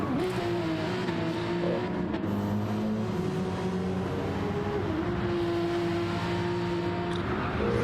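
Race car engines drone steadily in qualifying for the Nürburgring 24 Hours, a sustained mid-distance engine note that shifts pitch slightly as cars run through traffic, with no voices.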